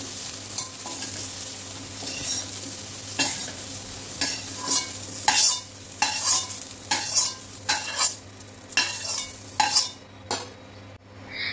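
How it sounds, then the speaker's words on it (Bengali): Soybean chunks stirred as they fry in a pan, a continuous sizzle with a series of louder scraping and clinking spoon strokes against the metal, close up, then a brief quieter pause at the end. "1 থেকে 2 মিনিট নাড়াচাড়া করে আমি সয়াবিনগুলো তুলে নেব একটা বাটিতে।"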